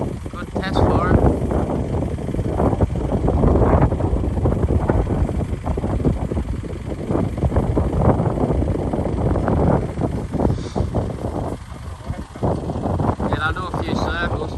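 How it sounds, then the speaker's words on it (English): Strong wind buffets the microphone with a loud, continuous gusting roar outdoors at a pigeon race release, while people talk over it throughout. "Geez, that's a solid wind."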